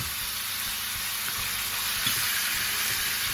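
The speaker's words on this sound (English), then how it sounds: "And you want to hear that sizzle" Steady, close sizzling of chicken frying in hot oil, a constant crackling hiss with a few soft pops underneath.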